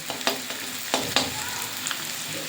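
Onions and sugar frying together in a pan as the sugar melts and browns, a close, steady crackling sizzle punctuated by a few sharp spatula scrapes, with no voices.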